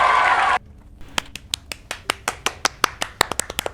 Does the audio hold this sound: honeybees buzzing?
no